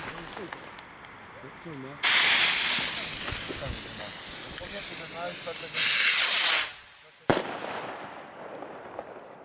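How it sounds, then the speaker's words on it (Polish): A firework fuse is lit: two loud, close bursts of harsh fizzing hiss sputter for a few seconds each, then cut out with a sharp pop and fade to a faint crackle. "Podpaliło się i zgasło."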